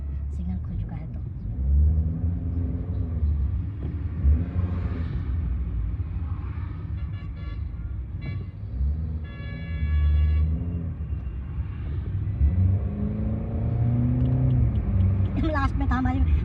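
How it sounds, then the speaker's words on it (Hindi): A car pulls away from a traffic signal after it turns green, its engine a low rumble running steadily beneath someone talking almost throughout. "अभी सिग्नल खुल गया और गाड़ी बढ़ रही है आगे।"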